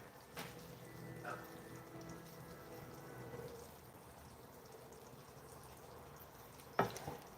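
Water is poured into a pan of mackerel cooking on a stove. A steady pour runs for about three seconds, then gives way to a quiet simmer, and a sharp clatter sounds near the end.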